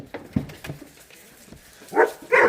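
Dogs barking and yipping near a person calling to them, a couple of sharp barks and whimpers after a stretch of quieter rustling.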